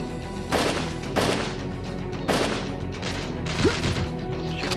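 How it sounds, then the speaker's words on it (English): Gunfire aimed at a barrel in the shooter game Chernobyl Underground: four loud, spaced blasts with crashing impacts over a constant rumbling game backdrop, no voices. "shooting a barrel doesn't do anything"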